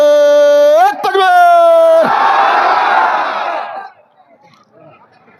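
At an evening Islamic mahfil in Nandi village, Dohar, a single amplified voice calls out, then a large crowd roars the takbir together in a loud, sustained shout that fades into quiet.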